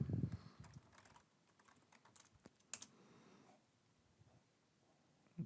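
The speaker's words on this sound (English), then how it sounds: "So let's type telnet there." The word telnet is typed on a computer keyboard, with a quick run of soft, close key clicks over faint room noise and a couple of louder taps near the start and end.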